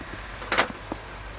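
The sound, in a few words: the speaker's own car, getting in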